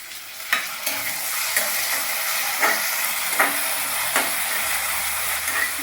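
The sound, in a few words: tomatoes added to frying bitter gourd curry, stirred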